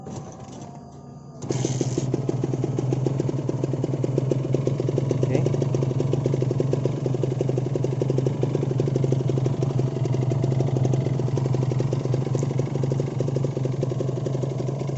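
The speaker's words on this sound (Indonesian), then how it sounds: "Oke, kita tes dulu untuk bagian mesin seperti apa" Kawasaki Ninja 150RR two-stroke motorcycle engine catches after a short quiet moment, then runs steadily at a buzzy, rattling idle, loud and close, with no talk over it.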